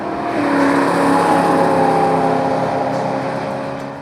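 A Mercedes E63 AMG on a race track during a track day near Mount Baker in Washington State, its engine roaring loud and sustained as the car drives by close, swelling and then easing slightly.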